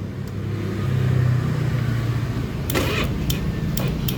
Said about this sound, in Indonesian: Nah, dia starter dia sudah mulai hidup, perhatikan.